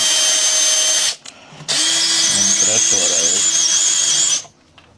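A cordless drill backs a screw out of test material, a loud close whine with a short break and then a longer run, over a low steady hum.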